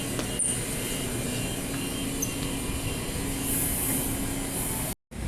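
Continuous rumbling rail noise from a Perth train departing a station, with a faint metallic squeal, steady and fairly loud, ending in a brief cutout.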